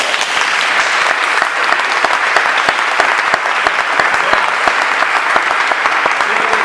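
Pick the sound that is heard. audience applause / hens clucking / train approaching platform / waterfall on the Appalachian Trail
audience applause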